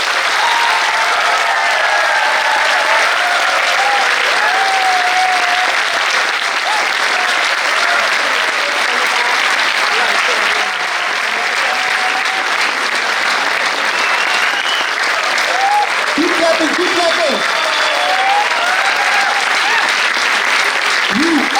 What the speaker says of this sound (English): Keep clapping, don't stop. Keep clapping. You are celebrating your success. Clap for yourself.